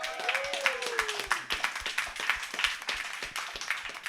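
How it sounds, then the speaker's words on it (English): Scattered clapping from a small audience at a live Web3 community meetup in Bali, a steady patter of hand claps running throughout with a faint tone sweep and light background voices early on. "Round of applause!"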